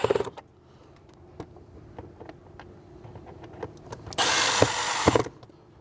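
A power tool drives Phillips head screws into the plastic airbox of a 2010-2016 Land Rover LR4 HSE during an air filter change: one loud, steady whirring burst of about a second near the end, after quiet clicks and handling.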